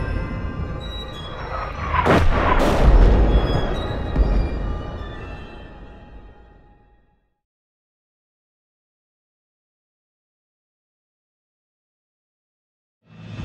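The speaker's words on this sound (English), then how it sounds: "The Union cannons overshoot their targets, with some shells landing in the woods behind the Confederate artillery battery on Seminary Ridge" Union cannon artillery fire at Gettysburg, shells falling in woods behind a Confederate battery on Seminary Ridge: a loud booming roar with a sharp blast near two seconds that rumbles and fades out, then long silence before a brief burst at the end.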